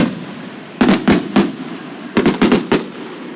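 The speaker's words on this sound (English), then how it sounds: "How many fireworks is all of that, though?" Fireworks go off outdoors in two quick volleys: three sharp cracking bursts, a short pause, then a tighter cluster of four or five loud pops, each with a brief crackling tail.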